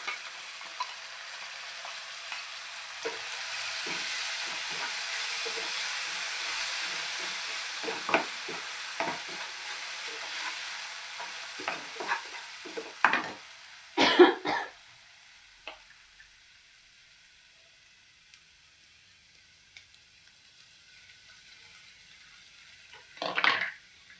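Tomato-onion paste frying in a pan, a steady hiss of sizzling that fades a little partway, punctuated by scattered light scrapes and a few louder clatters of stirring near the middle and at the end.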